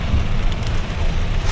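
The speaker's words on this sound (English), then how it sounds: "and it's raining" Steady rain falls during a flood in Fenghuang, China, a dense, even wash of noise with low gusty rumble, continuous throughout and close to the microphone.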